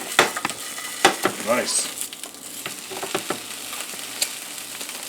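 Pork roll slices browning in a pan give a close, crackling sizzle broken by spatula scrapes and clinks, and a person speaks briefly over it.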